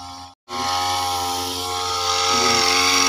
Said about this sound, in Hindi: जनरेटर की आवाज़ जनरेटर रखा है पेट्रोल चलती